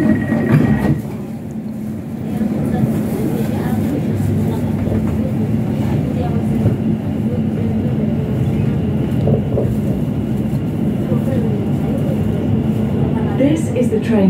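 An Arriva Rail London Class 710 electric train running toward Barking Riverside gives a steady low rumble and hum throughout, with a brief tone near the start and a recorded announcement voice over it.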